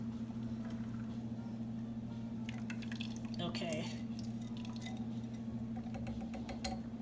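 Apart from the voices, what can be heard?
pouring German chocolate cake filling into a pan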